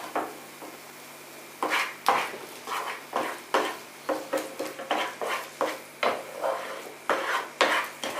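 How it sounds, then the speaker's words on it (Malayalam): Egg bhurji is stirred in a pan with a utensil, giving repeated scraping and clinking strokes in a steady rhythm, close and moderately loud, with no talking. "ഇനി ഇത് നല്ല അടിപൊളിയായിട്ട് ഇളക്കണം"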